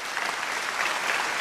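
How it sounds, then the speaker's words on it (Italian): Dense, steady audience applause fills a theatre, the Teatro Rendano in Calabria, a continuous wash of many hands clapping with no voices on top throughout. "sentiamo l'applauso"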